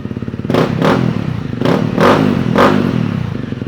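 A 2018 Honda CRF250L dual-sport motorcycle engine runs close by with a steady thumping idle, blipped to three or four short revs that rise and fall in a regular rhythm, with no talk over it.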